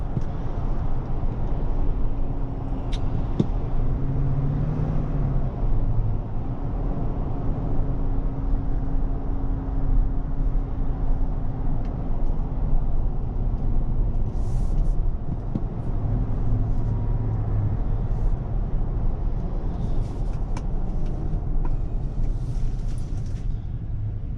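The V8 engine of a 2024 Chevrolet Suburban Z71 produces a steady, heavy low rumble heard from inside the cabin, unchanging throughout with faint light rattles on top.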